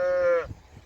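A single cow on an Irish farm gives one loud, close moo that slides slightly and cuts off, followed by quiet ambient rustle.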